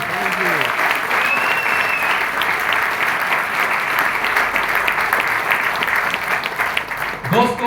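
An audience at a motivational talk in Borivali West bursts into loud, sustained clapping that fills the hall, with a voice heard briefly at the start and end.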